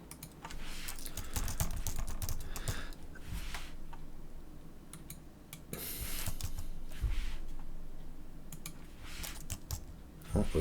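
Fingers type on a computer keyboard at a desk in a series of quick close clicking bursts with short pauses between them, and a voice speaks briefly in the background.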